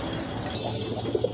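Pigeons kept in pairs for sale coo softly in low, throaty pulses close by, with a faint high whine in the background.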